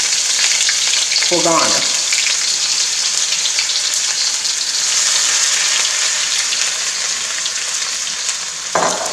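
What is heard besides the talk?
vegetables stir-frying in a pan for fried rice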